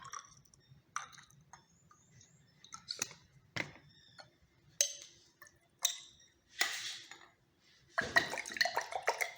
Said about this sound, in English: Shake it very well to see whether the salt will dissolve or not.